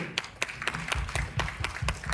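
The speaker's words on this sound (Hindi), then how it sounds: "जोरदार तालियां हो जाए मैडम के लिए" An audience claps for a woman being honoured, the sharp claps coming in quick, fairly even succession for a couple of seconds, moderately loud and close.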